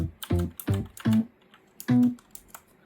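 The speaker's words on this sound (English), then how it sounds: "we can go ahead and just start typing" Notes are typed on a computer keyboard into a retro FM synthesis modtracker: four heavy, uneven keystrokes sound close and loud with short pauses between them and no talking.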